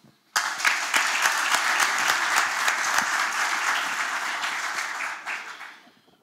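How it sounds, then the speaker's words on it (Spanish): Applause from a conference audience at an academic meeting, starting abruptly and holding as a loud, even patter of many hands for several seconds before tapering off. "Tenemos un aplauso."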